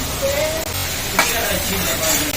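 Meal maker soya chunks fry in hot oil, a steady close sizzle and hiss with a brief sharper crackle partway through and no talking.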